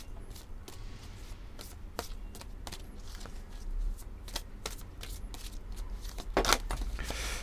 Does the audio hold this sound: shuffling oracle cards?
yes